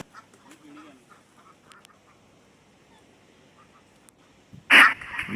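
A single loud, close quack bursts out near the end on a poultry farm that also keeps ducks, after quiet background murmur and faint bird sounds.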